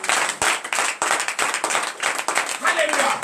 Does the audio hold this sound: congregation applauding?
yes